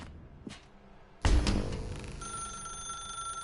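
In the video game The Stanley Parable, an abrupt thud is followed by an old-style telephone bell ringing nearby. It rings steadily and clearly, with no voices over it.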